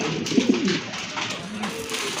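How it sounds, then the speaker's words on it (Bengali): A large male pigeon at a pigeon sale gives a few soft, throaty coos close by, over a low murmur of background noise. "এই যে দেখেন নটটা কত সুন্দর ডাকে, অনেক ডাকে কিন্তু এই নটটা।"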